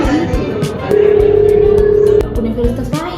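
A steady telephone tone sounds for a bit over a second while someone places a call to a friend, flanked by busy chatter and clicks before and after.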